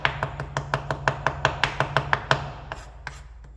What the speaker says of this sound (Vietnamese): Còn nửa ít này thì em cũng sẽ băm ra.